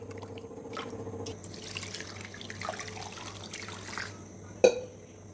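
Water runs into a pot holding freshly removed butter to wash it while making ghee, a soft continuous trickle and splash that ends with a sharp clunk near the close.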